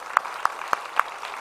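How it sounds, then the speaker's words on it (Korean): A church congregation claps together in slow unison during Sunday service announcements, giving four sharp, evenly spaced claps over a faint background murmur. "이제 박수 한번 해주실까요?"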